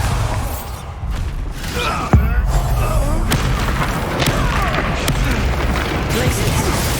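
A Bombarda explosion spell in Hogwarts Legacy goes off as one sharp, loud boom partway through, among ongoing game combat effects and crashes.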